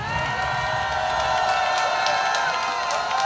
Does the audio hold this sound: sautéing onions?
no